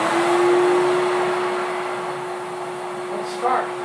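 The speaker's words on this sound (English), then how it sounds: "I'm gonna make some noise with the vacuum." Vacuum cleaner running steadily in a workshop, a loud continuous droning whine with a constant hum that holds unbroken throughout, with a brief bump of noise near the end.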